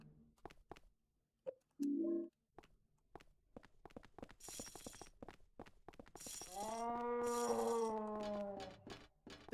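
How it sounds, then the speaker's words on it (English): Dogs in the Silent Hill 4 video game let out eerie, drawn-out howls and growling moans, set among scattered footstep-like clicks and thumps, rising into a sustained wavering howl toward the end. "Those dogs look a little different."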